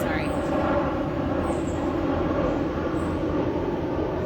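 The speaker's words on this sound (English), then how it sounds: "Another airplane, sorry." A fixed-wing airplane flying overhead near the Atlanta airport, a steady broad roar at a moderate distance that holds level throughout, with no voices.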